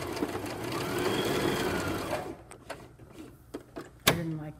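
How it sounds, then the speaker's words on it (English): Sewing machine stitches fabric for a face mask in a steady, continuous run, then stops and falls quiet apart from a few small clicks and handling knocks. "we're going to sew over and leave a 2-inch opening"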